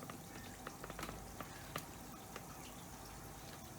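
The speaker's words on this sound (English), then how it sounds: "So we'll just keep on frying this." Puff puff dough, a Nigerian fried snack made in bulk, deep frying in a fryer of hot oil, giving a steady soft crackle and sizzle with scattered brief pops and drips.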